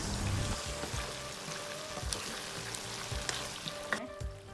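Caramelised pork belly bubbles and reduces in its liquid in a pot, a soft, busy crackle of small popping bubbles and sizzling at close range, with a few faint clinks and no voices.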